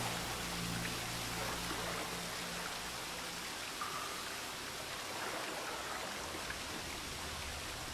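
Water flows steadily in The Witcher 3: Wild Hunt, a soft continuous stream-like rush with no talking over it.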